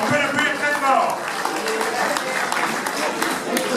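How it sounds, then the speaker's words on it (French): Applause and clapping fill a crowd at an awards ceremony for a night half marathon in Nuits-Saint-Georges, honoring a runner named Bernard: a steady, dense patter throughout, with voices mixed in. "On peut l'applaudir très fort."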